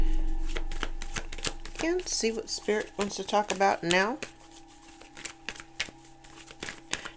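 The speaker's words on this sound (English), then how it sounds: "Let's shuffle up here." A deck of cards is shuffled by hand, with loud, close riffling and snapping bursts repeated throughout while a person talks over them.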